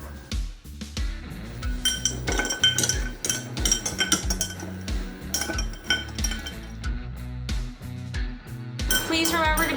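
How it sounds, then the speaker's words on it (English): Ice cubes clink and rattle in a mixing glass as a smoked maple old fashioned is stirred, producing a busy run of close, bright knocks and chimes. "we are going to add some regular ice just to cool it down as we're mixing"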